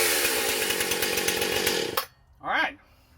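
A freshly started chainsaw runs loud and close with a rough, buzzing two-stroke drone, then cuts off abruptly, followed by a short voice.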